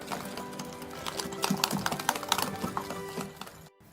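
Coffee powder mixture being stirred in a bowl for a coffee dessert, a quick run of light clinking, scraping taps that keeps a steady, busy rhythm close by before stopping abruptly.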